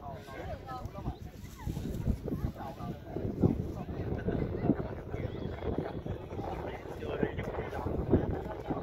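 Wind gusting across the Bình Thuận sand dunes, buffeting the microphone with a rough, fluctuating low roar, while people talk over it throughout.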